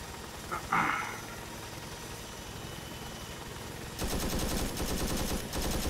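Gunfire in the Arma 3 video game: a short sharp burst early on, then a steady rapid automatic rattle that continues to the end, fairly distant and dense.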